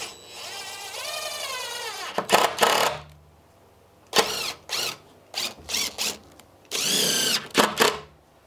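A power drill boring holes through a wooden bunk bed board whines in a series of short and longer bursts, loud and close, with brief gaps between them.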